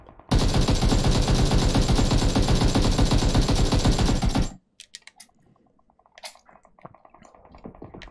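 AKM rifle firing in a video game, heard as a long unbroken automatic burst of rapid, evenly spaced shots for about four seconds, followed by a few faint clicks and scattered light noises.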